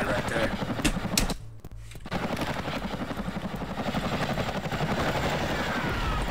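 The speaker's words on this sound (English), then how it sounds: "this is supposed to be a helicopter, kids" A video game helicopter's rotor chops steadily, with bursts of gunfire mixed in and a brief drop to near silence partway through.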